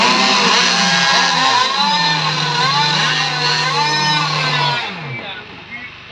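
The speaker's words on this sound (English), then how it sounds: "Okey, Reza, warm up your engine" A radio-controlled racing boat engine warms up at a boat race, giving a steady buzzing drone with wavering revs that cuts off near the end, while voices talk over it.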